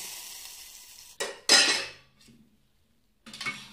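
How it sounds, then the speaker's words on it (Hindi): Cumin seeds dropped into hot oil in a spoon for a buttermilk raita, giving short loud hissing sizzles with metal clinks between them, then a brief fainter burst at the end. "ऐसे चम्मच में तेल गरम करके जीरा डाल के"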